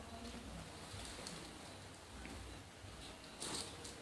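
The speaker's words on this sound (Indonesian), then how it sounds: "hujan terus di sini" Soft, steady rain patters continuously at a low level, with a few brief brighter drips near the end.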